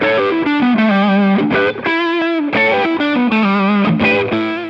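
Electric guitar with Gibson P90 pickups played loud and continuous through distortion and effects, with chords and riffs over nearly five seconds and no talking.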